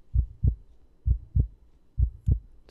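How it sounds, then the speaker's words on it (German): Heartbeat pulse in the Blacksad: Under the Skin video game, three pairs of deep, soft lub-dub thumps at a slow, even pace with no other sound around them. "Schon wieder der Puls."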